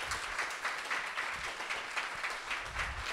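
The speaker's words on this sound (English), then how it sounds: "Will everyone join me in a huge round of applause for our speakers?" Audience applause for the speakers at the close of a PeaceTalk panel event on democracy and disinformation, a steady moderate patter of many hands lasting a few seconds with no talk over it.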